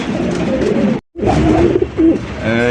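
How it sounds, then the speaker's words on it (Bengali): Sirazi pigeons in a market collection coo in low, throaty, repeated phrases close by, with a brief silent gap partway through and no talk. "এই দেখেন আরো এক জোড়া সিরাজি কবুতর কিন্তু সাইডে দেখতে পাচ্ছেন"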